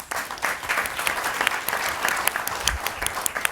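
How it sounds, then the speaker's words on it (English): An audience at a panel discussion claps steadily for several seconds, a dense wash of hand claps close and even throughout. "Audience, please give them another round of applause."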